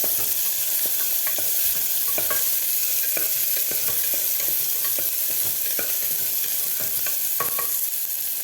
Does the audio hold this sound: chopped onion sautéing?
yes